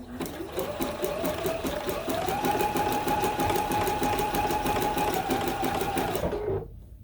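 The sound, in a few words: sewing machine stitching slowly over a quilt seam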